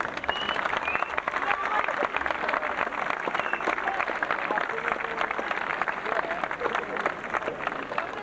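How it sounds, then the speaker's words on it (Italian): Sustained applause from a seated audience at an evening poetry prize ceremony in Chiesina Uzzanese, dense steady clapping filling the hall without letting up. "Ecco Luciano Luisi, a cui va questo grande applauso per la sua presenza questa sera"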